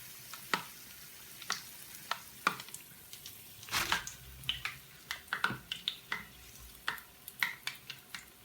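Banana bonda balls frying in hot oil give a soft crackle, interrupted by a steady series of sharp clicks and taps from a slotted spoon against the pan, close and fairly quiet.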